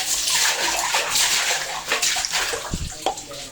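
Clean water poured into an old cement tank during cleaning, a steady broad splashing rush that fills the whole stretch, dipping briefly near the end before a short gurgle.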